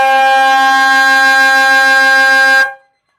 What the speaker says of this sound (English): As the siren sounds for three-quarter time